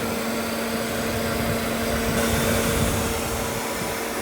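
A car's electric engine cooling fan whirs steadily up close, a constant airy drone with a slight tonal hum that holds for a few seconds, and no voices.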